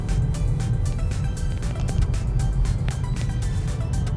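A 2019 Volvo V60 Cross Country T8 Twin-Engine drifting on a loose surface, steady loud engine and road roar with gravelly crunching and rumble, no talk.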